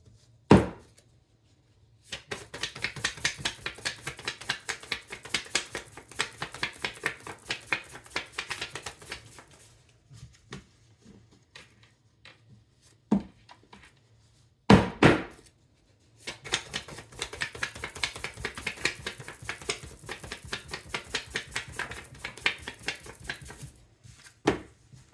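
A deck of cards is shuffled close by in quiet surroundings, two long riffling bursts of rapid crisp flutters broken by short pauses and a few sharp taps.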